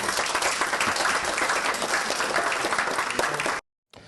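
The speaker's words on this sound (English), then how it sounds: "That applause coming during a school board meeting" Loud, dense applause from a crowd at a school board meeting, continuous and even for about three and a half seconds before cutting off abruptly.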